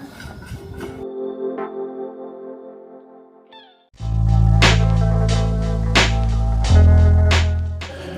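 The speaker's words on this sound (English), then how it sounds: "Of course, Hayley spotted a Herculaneum kitty." A cat at the Herculaneum ruins meows in a long, drawn-out cry, followed by a louder, rougher stretch of noisy sound with sharp clicks and bumps.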